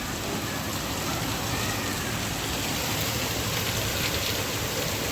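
Heavy monsoon rain pours down in a steady, dense hiss that stays even and unbroken throughout, with no voices over it.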